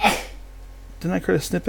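A single sharp sneeze bursts out at the very start, close and fairly loud, followed by a quiet pause and then someone talking.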